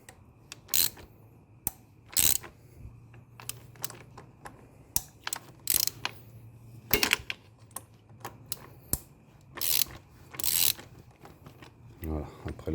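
A ratchet with an extension works a 32 mm socket bolt loose on a Golf 6 2.0 TDI turbo repair, making short, close bursts of clicking at irregular intervals, with a voice faintly present at times.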